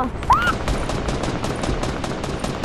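Gunfire in Fortnite, from a hunting rifle, cracks out as a quick run of sharp shots over a busy game background, with one brief whistling tone near the start.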